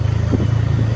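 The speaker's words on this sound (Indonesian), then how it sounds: "ini suara mesin motor saya tidak mute karena biar teman-teman tahu apakah" A TVS Ronin 225 motorcycle engine climbing a steep uphill road near Bandung, a steady low rumble running continuously and loudly under wind, with no talk.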